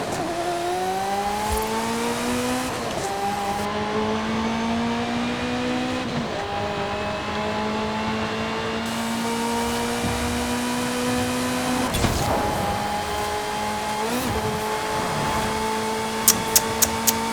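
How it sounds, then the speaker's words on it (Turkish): Racing car engine in Forza Horizon 5 revving steadily, its pitch climbing and dropping through a series of upshifts and downshifts, loud and continuous with sharp breaks at each gear change. "ses inanılmaz muazzam. Abi vites düşürmeler, vites yükseltmeler."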